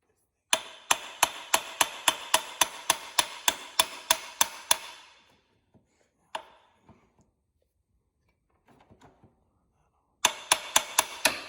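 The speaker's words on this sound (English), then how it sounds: "Slightly tap so we don't bend this bolt." Hammer tapping lightly on a bolt while working on the wheels of a 1973 Honda XL175, a fast regular run of about fifteen sharp metallic taps, a couple of isolated knocks, then another quick burst.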